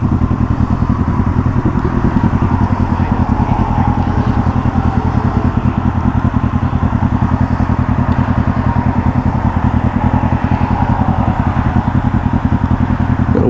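A motorcycle running hard at speed during a group ride with a CF Moto, ZX-6R, MT-09 and Aprilia RS 660, its engine a loud steady drone with constant rumbling pulses and wind roar, close and continuous throughout.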